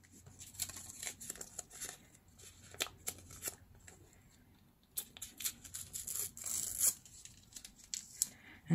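Brown tape is torn into strips for an envelope journal cover, with rapid, crackly ripping and crinkling bursts that come close and repeatedly over several seconds.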